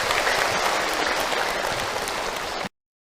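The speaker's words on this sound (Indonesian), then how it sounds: "Tepuk tangan buat bunda yang bertanya" A crowd at an Islamic religious talk breaks into dense, steady applause for a woman who asked a question, loud and continuous before stopping abruptly.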